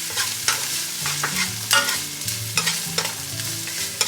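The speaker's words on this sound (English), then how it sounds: "Fry it for about 2 minutes so you can release the flavor" Minced garlic sizzles in a pan for Nigerian fried rice, a steady hiss broken by repeated scraping taps of a spoon stirring against the pan, close up, with music underneath.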